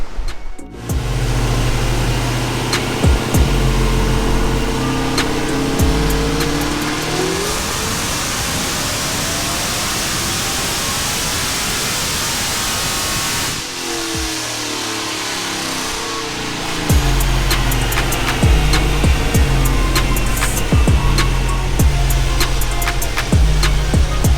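A supercharged Dodge Hellcat with a 4.5L Whipple blower and HHP cam roars through a dyno pull: loud, sustained engine revving that swells, eases briefly, then climbs hard again, with no voices.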